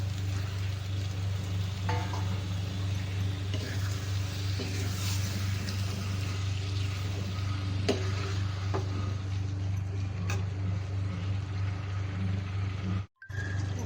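Liver frying in a pan for a Chettinad fry, a steady close sizzle with occasional stirring clinks and scrapes, continuous throughout with no talking.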